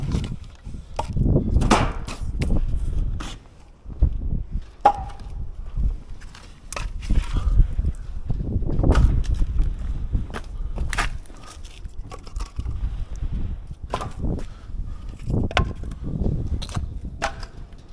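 Palax C750.2 PRO+ firewood processor cutting and splitting logs, with repeated woody knocks, clunks and thuds of logs falling over a steady background of machinery, fairly close and moderately loud.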